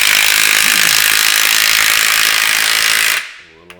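Cheap clamps being ratcheted tight while fitting a new shock on a 2010 Ford Raptor with 100K miles, a loud continuous rapid clicking that stops abruptly near the end, followed by a faint knock.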